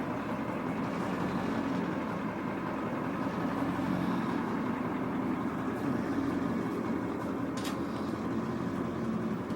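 Ford F-600 wrecker with a Holmes tow bed sits idling, a steady low engine rumble held at an even level throughout with no voices.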